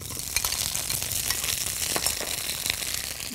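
Cherry tomatoes fry in hot olive oil, giving a steady, close, loud sizzle and crackle with faint stirring pops throughout and no talking.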